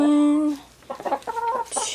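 Chickens sound off nearby in a coop: a black copper Marans rooster kept with Marans hens. A drawn-out crow ends in a run of clucks and squawks.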